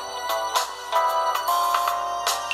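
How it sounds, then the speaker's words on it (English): A ringtone melody plays through the rear bottom speaker of a Doogee Leo DG280 smartphone, a bright, treble-heavy series of repeating chime-like notes that fills the short stretch at steady volume with no talking. "And now we're going to be testing here the bottom speaker on the back."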